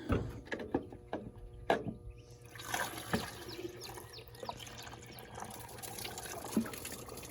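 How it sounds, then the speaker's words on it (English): Water trickles and splashes as it is poured into the radiator of a 1969 Pontiac GTO barn find, quiet and close, with a few soft clunks and knocks around it. "we gotta put some more water in it"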